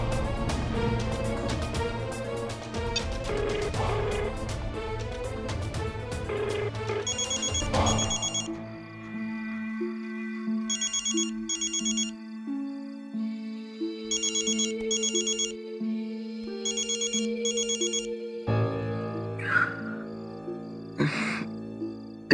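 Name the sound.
phone ringtone ringing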